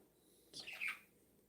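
A single short bird chirp rises briefly and faintly over a quiet background, then fades.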